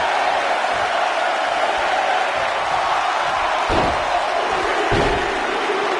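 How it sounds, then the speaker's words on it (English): A large video game arena crowd roars steadily, counting along, with dull thuds landing near the end over the constant noise of the audience. "Listen to this crowd count the next one in."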